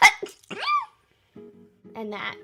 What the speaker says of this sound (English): I just can't stop sneezing.